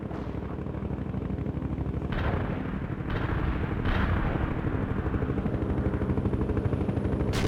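Artillery barrage in the real-time strategy game World in Conflict, a dense continuous roar of heavy guns and explosions with repeated thumping blasts layered over a low rumble, steady and loud throughout.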